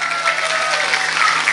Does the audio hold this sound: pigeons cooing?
no